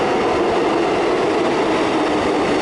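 A Melbourne suburban train bound for Flinders Street rolls into Boronia station with a loud, steady rumble and rushing wheel noise, close by, without a break.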